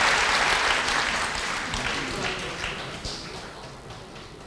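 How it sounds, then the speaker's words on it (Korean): Audience applause greeting musicians on stage at the 2005 Manhunt International world final, a steady, dense clapping that stays loud and even throughout with a slight fade toward the end. "다시 한번 큰 박수로 맞아주시기 바랍니다"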